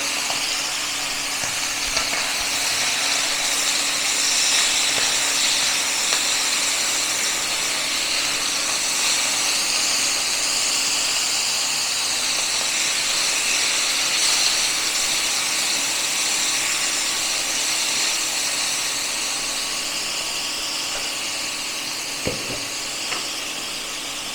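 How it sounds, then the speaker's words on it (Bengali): Hot oil spatters and crackles steadily in a pan where water is present, a dense, continuous sizzle with occasional sharper pops, close and loud throughout with no talking. "জল আছে বলে ছিটকাচ্ছে"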